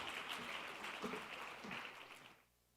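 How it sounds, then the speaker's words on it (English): A gala dinner crowd applauds Khayal Art Theatre with a dense, distant wash of clapping lasting a couple of seconds, then fading out to quiet room tone. "Please give a very large round of applause for Khayal Art Theatre,"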